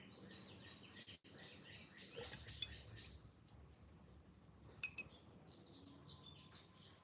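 A pet parrot chirps faintly in a quiet indoor room. A few sparse tweets sit over a low background hiss, along with occasional soft clinks like dishes or cutlery.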